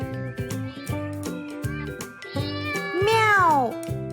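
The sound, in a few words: cat meowing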